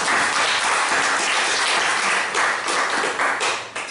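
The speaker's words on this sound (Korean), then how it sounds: "우리 한번 김가람 강도사님을 위해서 뜨거운 격려의 박수 한번 쳐줄까요?" A Korean church congregation gives warm applause for a preacher. The clapping is loud and dense and fills the hall for several seconds, then thins out at the end.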